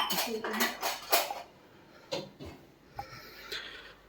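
Pots and utensils clink while tea with ginger and cardamom is made in a home kitchen; a quick flurry of bright metallic clatter comes first, then a few scattered clinks, close by.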